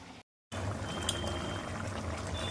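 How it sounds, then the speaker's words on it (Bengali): Water pours steadily into a cooking pot of mashed green banana for a Bengali dish. The pour is a continuous close trickle and splash, starting after a brief silent gap. "এবার এর মধ্যে অ্যাড করছি জল।"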